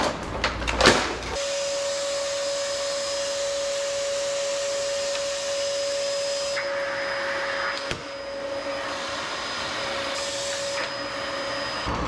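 A vacuum cleaner runs steadily with a constant high whine and airy rush, close and loud, after a brief clatter at the start, its pitch holding through to the end with no talk.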